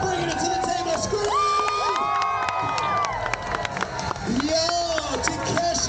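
Crowd at the EX Games at the CNE screaming and cheering loudly and continuously, with whoops and children's shouts rising over a dense roar through a run.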